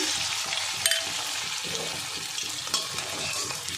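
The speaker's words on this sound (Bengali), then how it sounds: "এইভাবে সব বড়াগুলো আমি ভেজে নেব।" Egg and potato fritters, four at a time, fry in hot oil, giving a dense continuous bubbling sizzle with a couple of brief clinks from turning them.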